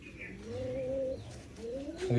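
Pigeons on a rainy day give low, drawn-out coos one after another, fairly faint, with soft chirps mixed in and no talking.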